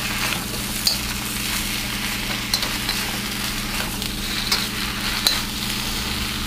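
Fish pieces frying in a pan for shrimp and fish teppanyaki, a steady dense sizzle with occasional light scrapes and clinks from stirring, close and continuous throughout, no voices.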